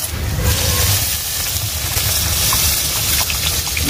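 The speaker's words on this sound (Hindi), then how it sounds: "अब इसमें हम लोग पानी डाले जा रहे हैं।" Water poured into roasted fish masala in a pan over a clay chulha, a steady loud gushing and sizzling wash with low rumble throughout, no talk.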